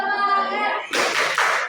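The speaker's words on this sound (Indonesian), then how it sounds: "Tepuk semangat." A class of eighth-grade schoolchildren claps a short rhythmic spirit clap, a few sharp bursts of clapping that follow a stretch of chanted voices.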